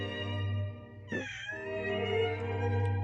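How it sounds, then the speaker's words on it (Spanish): A house cat gives a single clear meow near the middle, close by, heard over a steady low hum in an indoor room with no talking. "Ese es el gato."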